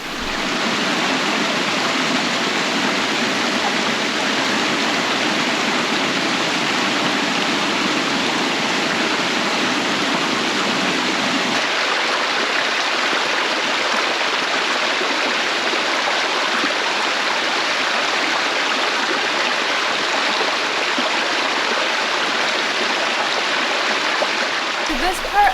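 Waterfalls tumbling along a stream on Falls Branch Trail in the Ouachita Mountains of Arkansas, a constant loud roaring rush of water that shifts slightly in tone partway through, heard without talk.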